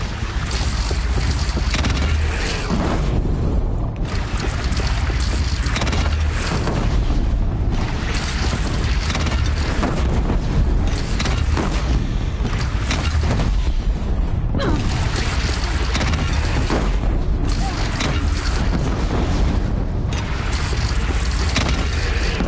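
Heavy, sustained rumbling blasts and booms from a bridge being brought down by explosion in the Horizon Zero Dawn video game, loud and dense throughout with rolling low-end crashes and no talk over it.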